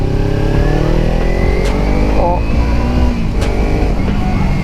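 A Kawasaki Ninja inline two-cylinder motorcycle with an Akrapovič exhaust runs loudly throughout, rumbling and revving with rising harmonics, close by and steady.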